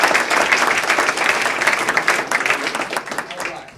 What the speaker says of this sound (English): so they deserve a round of applause, everybody